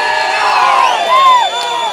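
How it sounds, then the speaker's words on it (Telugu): A crowd at a Telugu film audio launch event cheers and whoops loudly for the producer, a dense wash of voices with rising shouts, filling the whole moment. "ప్రొడ్యూసర్ ఒక్క చప్పట్లు వేసుకోండి నాగరాజ్ సార్కి."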